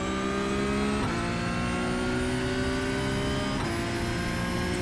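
A Porsche 911 GT3 Cup 992.1 race car in iRacing at the Jerez circuit holds full throttle, its engine howling steadily with rising pitch and two brief gear-shift dips, loud and close with no talk.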